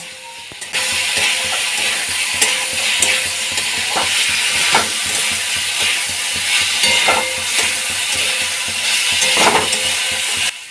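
Continuous loud sizzling in a pan with repeated rhythmic scraping of a spatula stirring ginger paste into boiled watermelon rind, nearby and without talk.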